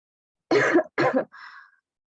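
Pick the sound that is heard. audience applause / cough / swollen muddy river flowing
cough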